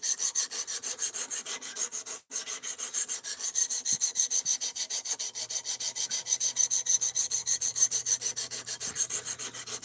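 Ozark Trail axis lock knife with a D2 steel blade being sharpened, a steady rhythmic rasp of back-and-forth strokes repeating about every quarter second, close and continuous with one brief pause early on.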